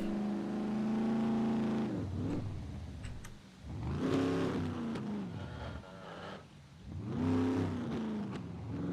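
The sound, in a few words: car engine driving in the SCUM video game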